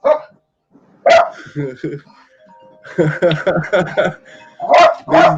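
Several sharp dog barks ring out nearby, a couple in quick bursts, mixed in with a person talking.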